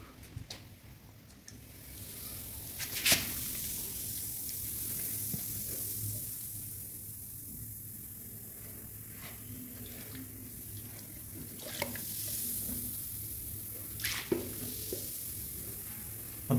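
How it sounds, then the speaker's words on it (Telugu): Acid mixed with water fizzes and foams across floor tiles during cleaning, a faint continuous hiss broken by scattered small pops and clicks. "మొత్తం పొంగుతుంది చూసారా యాసిడ్ వాటర్ వల్ల."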